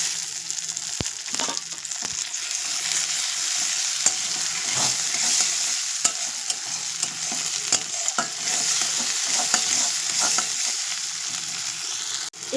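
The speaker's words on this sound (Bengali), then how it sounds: "এগুলোকে আমি একসঙ্গে একটু লাল লাল করে ভেজে নেব।" Crushed ginger, garlic and chopped tomatoes fry in a pan with a continuous loud sizzle, punctuated by scraping stirs and occasional sharp clicks of a utensil against the pan; no one speaks.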